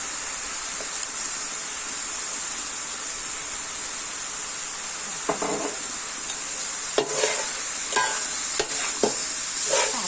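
Pork with sweet peppers and oyster sauce stir-fries in a pan, a steady soft hiss with a high whine above it, broken by a few sharp scrapes and clanks of the spatula toward the end.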